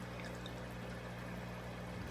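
Tap water pours steadily into a 20-gallon long aquarium during a large water change, a continuous close rushing splash that holds even and unbroken throughout.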